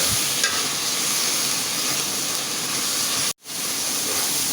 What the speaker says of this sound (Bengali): আমি মশলাটা সুন্দর করে কষিয়ে নেব